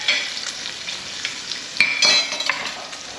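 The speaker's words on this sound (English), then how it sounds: "Remember, we're frying cabbage. We're not steaming cabbage, we're frying cabbage." Cabbage fries in hot grease in a Southern-style skillet, giving a steady close-up sizzle with crackles and brief stirring scrapes throughout.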